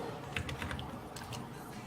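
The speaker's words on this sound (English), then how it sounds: "Now you're doing a lot of typing too." Quiet, rapid clicking of computer keys being typed, a brief irregular burst of keystrokes over faint room noise.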